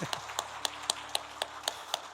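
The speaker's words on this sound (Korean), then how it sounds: "환영의 박수 하겠습니다" A small church congregation of about five people gives brief welcome claps during a Sunday service, about ten sharp, evenly spaced claps over roughly two seconds, faint and thin rather than a full applause.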